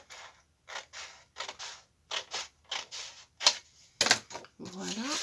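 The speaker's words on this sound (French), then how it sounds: "Je vais couper ma bande." A paper strip for a handmade greeting card is cut with a crafting trimmer, a series of short rhythmic slicing scrapes close by, followed by a couple of sharp clicks and a brief rustle.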